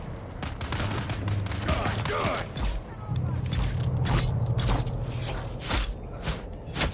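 Turret gunfire in the video game Dune: Awakening, rapid repeated shots rattling in a sustained loud stream with mechanical whirring, while a person talks over it.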